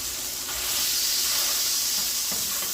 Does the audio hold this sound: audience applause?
no